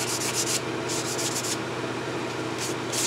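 Rough, repeated strokes of a homemade sanding stick rasp against a surface in short bursts with pauses, close by, no voices.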